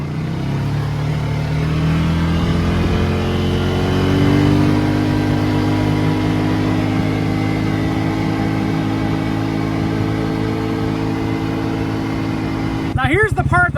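A Polaris Ace fitted with a fold-down windshield rides along a dirt road, its engine droning steadily and close with rising and falling pitch, wind rushing throughout, and a brief clatter near the end.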